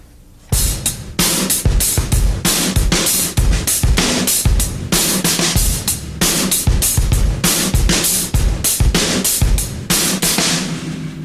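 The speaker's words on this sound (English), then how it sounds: "let's start off with a simple 2-bar pattern between the kick and snare, and I'll play 8th notes for you" A drum kit plays a simple two-bar kick and snare groove under steady 8th-note hi-hat, loud and close, with sharp repeated hits and no voices.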